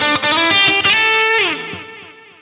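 A heavily distorted electric guitar played through a Headrush Gigboard plays a short riff with a bending note, then rings out and fades into a lingering reverb tail.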